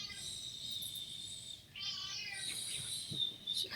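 A pet cat meows indoors, a few soft, drawn-out, rising calls in quick succession, fairly quiet and close, over a faint room hiss.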